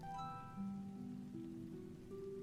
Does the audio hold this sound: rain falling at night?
yes